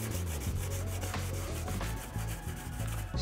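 A Scotch-Brite pad scrubs tough yellow paint off a campervan's body in quick, repeated rubbing strokes, close and fairly quiet, with no voices.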